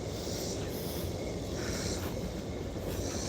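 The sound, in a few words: distant train passing, echoing off mountains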